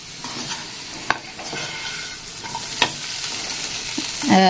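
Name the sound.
green peanuts roasting and stirred in a nonstick pan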